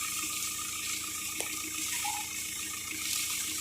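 Water gushing steadily from a newly drilled well, a continuous rushing splash of moderate loudness with no talking.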